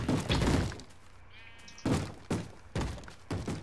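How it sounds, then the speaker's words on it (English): A sheep opens a door in the Minecraft modpack Tekkit: a series of hollow wooden thunks spaced out over a few seconds, with a soft sheep bleat between them, all fairly close and moderately quiet. "That sheep just opened a door."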